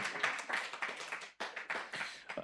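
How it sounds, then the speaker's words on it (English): Brief audience applause for a speaker at a live-streamed inclusive development event, a short burst of close hand clapping with a momentary dip before it resumes. "Another round of applause for Miss Grace Cherry"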